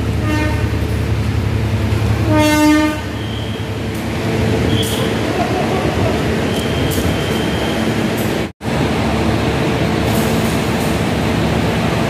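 A Kedung Sepur passenger train runs on the Semarang line with a loud, continuous rolling rumble, a brief tonal whistle early on, and a momentary cut in the sound partway through.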